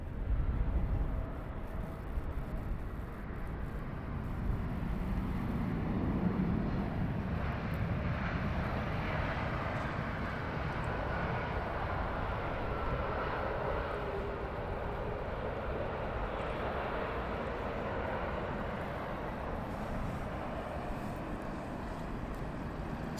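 Aer Lingus airliner at London Heathrow Airport, a steady broad jet roar that swells gently around the middle and holds loud and continuous throughout, with no talk over it.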